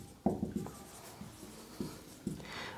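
Chalk or marker scrapes and taps as a teacher writes a formula on the board in a quiet classroom, with a handful of short strokes at irregular intervals.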